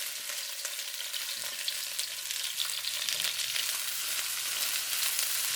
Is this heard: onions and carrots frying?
yes